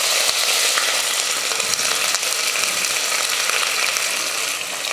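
Onions fry in oil with cinnamon, star anise, cloves, cardamom and bay leaf, making a loud continuous close sizzle with faint crackles that eases slightly at the end. No one speaks.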